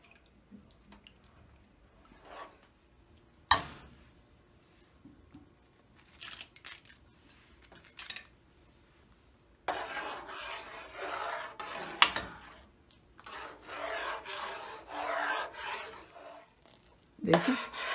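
Spoon working through milk vermicelli (sewai) in a pot over high heat, with soft scraping and rubbing strokes that come in irregular bursts, louder and denser toward the end, with no talk.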